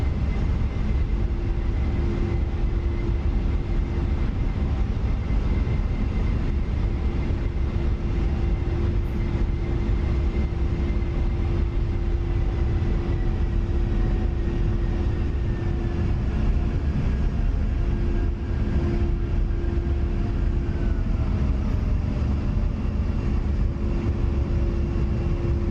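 An A-10A jet in the DCS flight simulator, a steady loud engine drone with a constant whining tone that holds for the whole stretch, gliding down toward a runway.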